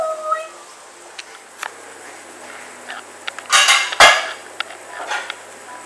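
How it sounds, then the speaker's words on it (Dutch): Dishes being washed by hand, with scattered clinks of cutlery and pots and a few louder clattering bursts against a quiet kitchen background. "Ik ben nu bezig met de afwas, zoals u ziet, die bijna klaar is."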